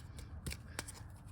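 Tarot cards shuffle by hand in a quiet room, a few soft riffling bursts and light slaps over low background hum, faint and close.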